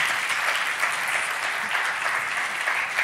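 An audience applauds the interpreters at an anniversary event, a dense, even wash of clapping that holds steady without pause.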